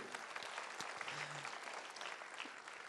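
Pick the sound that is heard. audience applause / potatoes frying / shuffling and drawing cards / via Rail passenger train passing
audience applause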